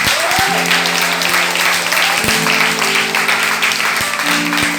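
A church congregation claps and cheers in sustained applause during a worship service, loud and close throughout, with a few musical tones ringing beneath the clapping.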